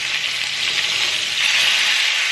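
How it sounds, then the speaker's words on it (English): Chicken sizzles and crackles steadily in hot grease, a loud continuous frying hiss with no voices. "The reason why it's frying like that is because the grease was hot."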